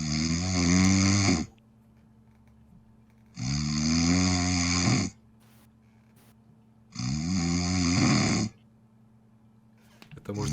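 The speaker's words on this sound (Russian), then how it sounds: "Он орёт храпом." A man snoring loudly in three long, rasping inhalations separated by quiet pauses, close by and regular in rhythm, with no talking.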